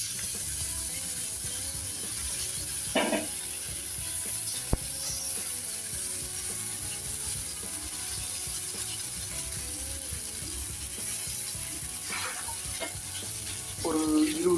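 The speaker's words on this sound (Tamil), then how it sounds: "மசால் போட்டு தயாராக வச்சுக்கிற மீனை எடுத்து தோசைக்கல்லில் வைங்க" Masala-coated fish laid on a hot oiled dosa griddle for a tawa fish roast, a steady close frying hiss throughout with a few brief scraping and clicking knocks; no talking.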